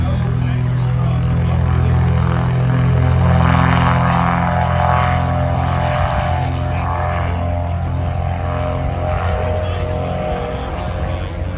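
Legend Cub STOL aircraft racing at an air show, a loud continuous propeller-engine drone with steady low hum holding throughout, close and dense, with a crowd and other noise mixed in.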